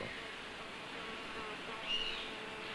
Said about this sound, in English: The buzzing of flies of various species is another characteristic sound accompanying a swarm raid